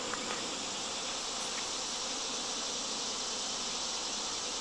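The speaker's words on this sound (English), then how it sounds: "I still see bees in that tree" A honeybee swarm hums in a tree during a fall swarm, a continuous faint buzzing drone over a steady background hiss with no talking.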